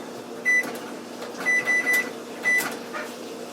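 A microwave oven hums steadily while heating food, with a handful of short, high electronic beeps sounding near and clear over the low drone.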